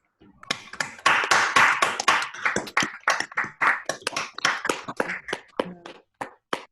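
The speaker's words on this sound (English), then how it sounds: "let's give another round of applause." Seminar audience giving a round of applause at the end of an astrophysics talk, a dense, fairly loud burst of clapping that thins into scattered individual claps and stops.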